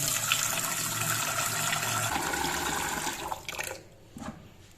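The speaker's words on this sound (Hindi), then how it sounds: "इसमें हम लोग डालते हैं पानी।" Water pours steadily into a metal pot on a stove for a few seconds, a continuous rushing splash that tapers off near the end.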